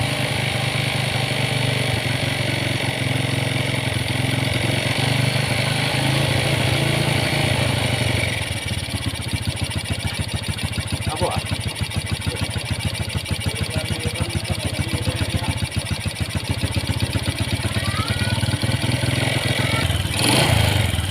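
A Honda Supra X 125 motorcycle engine that starts hard runs loud and close with a rapid uneven chug, its rhythm stumbling and sputtering when throttle is applied.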